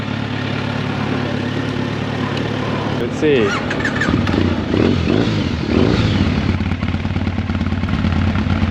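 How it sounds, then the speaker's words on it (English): A retro Triumph Bonneville motorcycle engine runs and revs up close, its rumble rising in a couple of swells, while a person speaks briefly over it and wind buffets the microphone. "Triumph Bonneville, also a retro bike. Originally came out in 1970 or something like that."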